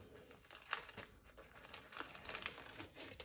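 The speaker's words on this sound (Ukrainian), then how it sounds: "Будемо знімати скотч." Crinkly tearing and crackling of adhesive tape being peeled off a gouache and acrylic painting, in short close bursts with no voices.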